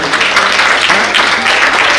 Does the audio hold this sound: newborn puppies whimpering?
no